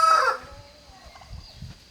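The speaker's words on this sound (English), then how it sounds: "The birds are really making noise." A rooster crows loudly and close at the start, followed by softer clucking and scattered fowl calls outdoors in Africa.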